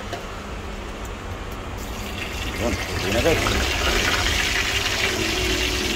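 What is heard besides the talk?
water being poured into cooking pot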